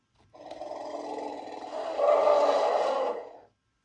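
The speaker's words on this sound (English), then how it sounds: "Now let's go ahead and use the sound feature on this thing." A Mattel Jurassic World Legacy Collection Real Feel Triceratops toy plays its electronic roar, one drawn-out, growling bellow lasting about three seconds that grows louder midway, close and clear with no talking.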